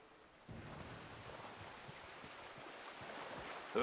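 A character wades through cold water in Red Dead Redemption 2, with soft sloshing and splashing over an outdoor wash that swells after a quiet start, ending in a brief louder splash.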